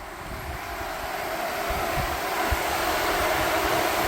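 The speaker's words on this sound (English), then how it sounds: "Both fans are running." Electric radiator cooling fans on a Nissan S12 with an SR20DET swap run together in a steady, even whooshing rush, close and constant throughout.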